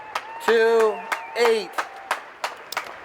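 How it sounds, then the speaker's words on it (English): Polo match crowd giving both teams a round of applause at the end of play, scattered distant claps and brief cheers popping out between a loud announcer's amplified voice. "let's give both these teams a round of applause"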